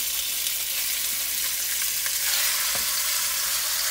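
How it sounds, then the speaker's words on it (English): Pork browning in a pot for Louisiana jambalaya, cooked in an RV kitchen, with a loud, steady hiss and crackle of frying fat and occasional soft stirring scrapes, close and continuous. "we'll get the pork browned up"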